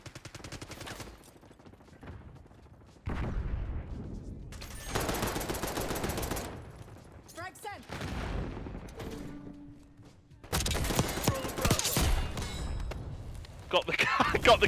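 Gunfire bursts and a frag grenade blast in the video game Call of Duty Black Ops 6 come in loud clusters separated by quieter gaps, with a player talking between them.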